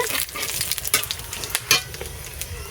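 Cumin, fresh bay leaves, dried red chillies and cinnamon sizzle in hot oil for a rustic yam curry, a steady close crackle broken by sharp spatters and the scrape of stirring.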